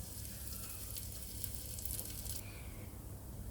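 Palmiers sizzle in a hot pan set under a grill: a faint, steady crackling hiss that holds evenly throughout, with no voices.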